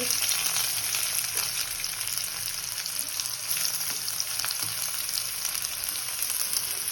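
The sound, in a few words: ginger, garlic and chopped onion frying in a pan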